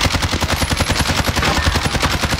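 Rapid automatic gunfire fills a round of a competitive shooter game, with loud, close, steady bursts of shots rattling continuously and no talk over them.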